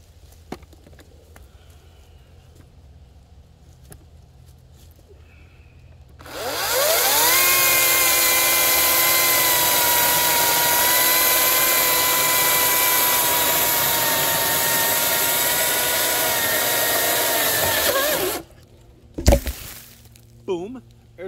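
Power saw, likely a chainsaw, slicing across a tree trunk to cut it into two planks, starting abruptly and holding a loud, steady whine for about twelve seconds before cutting off, with a brief clatter after.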